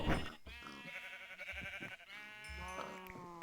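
Goats and cows in the Minecraft video game, a run of bleating animal calls repeating one after another, fairly close, with no talk.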